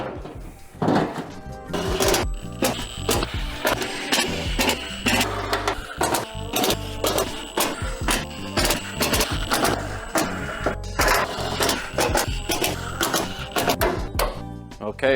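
Power tools drive screws into the frame of a wrecked Toyota GR Supra during a rebuild, producing loud, rapid, repeated whirring and clattering bursts that continue densely throughout in a workshop, with no voices.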